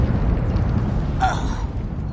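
A brief fiery burst from the Incendio fire spell in Hogwarts Legacy, a short whooshing flare over dense, rumbling game sound, with no talking.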